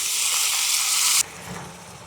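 Fava beans dropped into melted butter in a pan, a loud bright sizzle that cuts off abruptly after about a second, leaving a quieter low rumble, with no speech.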